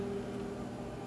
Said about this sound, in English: I'm gonna microwave me some water from the sink